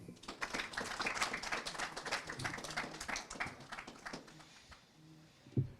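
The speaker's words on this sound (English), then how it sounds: "Let's give them all a big round of applause too." A graduation ceremony audience applauds school staff with a lively burst of many hands clapping, fairly close, that gradually thins to scattered claps and fades near the end, with a single sharp knock at the close.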